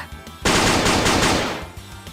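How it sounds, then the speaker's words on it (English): Burst of rapid submachine gunfire from a whole flock of guns emptying their magazines at once in the Dies irae visual novel battle, a dense, loud roar lasting over a second after a quiet lead-in. "It took but a moment for all 20 guns to completely empty their magazines."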